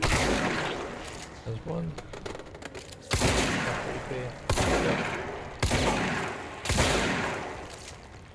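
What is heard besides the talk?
gunfire from the video game Control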